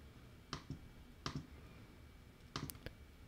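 Computer mouse clicks on a PC while downloading Epson printer software, three pairs of crisp, close clicks separated by short quiet gaps.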